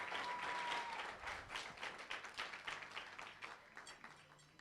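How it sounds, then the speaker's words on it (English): An audience at a bench press championship claps steadily for the winners, a fairly faint, even wash of applause that slowly tapers off. "give me one more big round of applause for these three winners"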